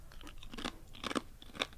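Someone chews a crunchy dried snack that looks like pepperoni slices, with quiet, close crunching bites in a quick irregular rhythm and no talking.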